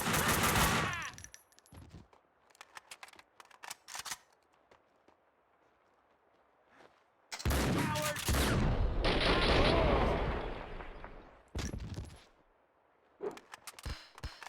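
Gunfire in the shooter game Max Payne 2, heavy automatic bursts in loud clusters separated by quieter gaps, with scattered single shots between.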